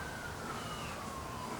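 Distant sirens wail faintly beneath a dense, steady background hum, their rising and falling tone carrying from far away.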